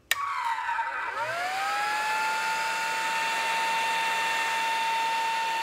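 A Gecko G540 stepper motor controller on a 48 volt power supply starts with a sharp click, then its tone sweeps and settles into a steady, fairly quiet high whine that holds alone.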